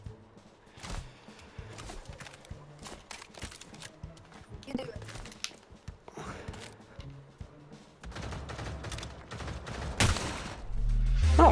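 Gunfire in the VR shooter Pavlov VR, scattered shots and bursts popping over a busy game mix with people talking and laughing, the firing growing denser and louder toward the end.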